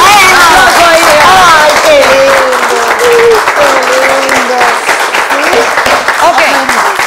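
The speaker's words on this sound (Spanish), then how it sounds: "Vamos a dar un aplauso a ellos." Loud, sustained applause from a studio audience on a couples talk show, dense clapping running throughout while people speak and exclaim over it.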